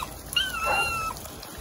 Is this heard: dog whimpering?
yes